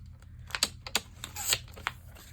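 Scissors cut through a pink craft paper page printed with hydrangeas for a glue book, a quick series of crisp snips and paper crunches close by, with no talking.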